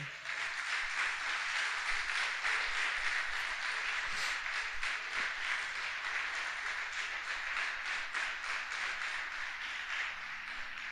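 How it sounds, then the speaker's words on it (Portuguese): A church congregation at a worship service claps in praise to God: dense, steady applause of many hands filling the room at an even level throughout, with no voices rising above it. "Aplauda Ele, você que crê."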